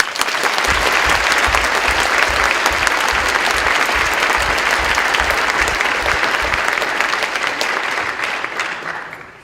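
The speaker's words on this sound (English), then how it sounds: "a round of applause for both of them" A debate audience applauds the two debaters, a loud, sustained wash of many hands clapping that stays full and even before tapering off at the very end.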